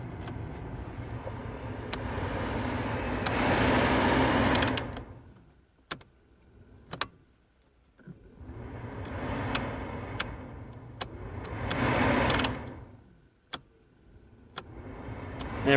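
A Vauxhall Opel Meriva HVAC ventilation blower fan whirs close by, surging twice to a rushing roar and easing back between, with scattered sharp clicks and taps in the quieter stretches.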